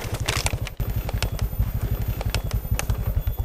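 A motorcycle engine runs close by with a rapid, steady, throbbing pulse and a rattly, uneven edge.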